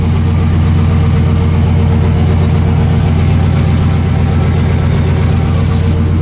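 A 1956 Buick running through dual Flowmaster 10 exhausts gives off a steady, fairly subdued low rumble at idle, close by and unbroken, with no talking.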